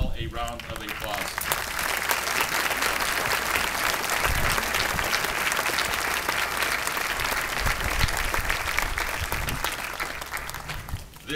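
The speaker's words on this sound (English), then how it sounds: "let's give them all a round of applause" Loud, sustained applause from a large crowd at a Flight 93 memorial observance, honoring first responders, continuing evenly with a few nearby claps and cheers before tapering off.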